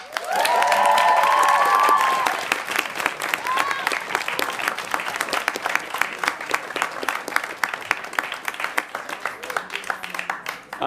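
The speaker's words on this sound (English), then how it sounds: "can we give them a big round of applause, please?" A student Question Time audience breaks into big applause, opening with a loud cheer and shouts before settling into sustained, dense clapping.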